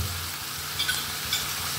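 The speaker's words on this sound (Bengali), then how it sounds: "নুন দিয়ে আমি এটা 5 মিনিট মতো এখন ভাজবো।" Chicken meat sizzles steadily in a hot pan with salt while being fried for a chicken curry, a continuous close crackle with a few sharper pops and no talking.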